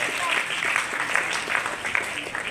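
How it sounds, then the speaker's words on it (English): School audience applauding staff and students at a Nizam birth anniversary function, a steady, fairly close stream of many claps at even volume across the whole moment, some individual claps standing out. "So again, round of applause to all of you, and our students for making us proud"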